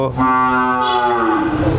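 A heifer gives a long, loud moo that fills the whole moment, close by at a dairy farm, with a steady low rumble of background noise beneath it.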